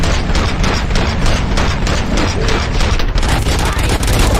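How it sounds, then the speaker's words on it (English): Gunfire in the video game Robocop: Rogue City on PS5, a loud, unbroken barrage of rapid shots and booms filling the whole stretch, dense and close. "Gunshots? What's going on?"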